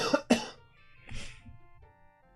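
A person lets out two quick, close coughs followed by a softer throat-clearing rasp, alone over faint game background music.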